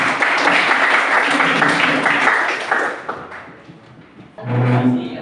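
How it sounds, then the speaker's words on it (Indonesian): Students in a classroom break into applause, a dense burst of clapping that fades after a few seconds, followed by a voice beginning to speak. "Semua beri aplaus dulu"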